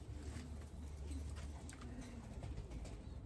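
A racing pigeon coos softly and repeatedly at close range at a one-loft race entry, low throaty calls over a faint background hum, with no talk.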